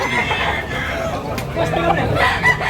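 At a busy chicken market in Tabunok, Cebu, roosters crow and hens cluck amid steady crowd chatter, the crowing loud and close over the din while people talk throughout.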